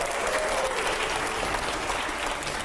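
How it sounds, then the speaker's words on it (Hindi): An indoor audience at a televised debate event claps loudly and continuously, a dense, sustained wash of applause with no pause. "जोरदार तालियां हो पहले।"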